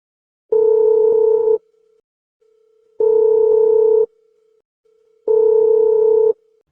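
A telephone ringback tone sounds three times, each burst about a second long with regular pauses between, clear and isolated.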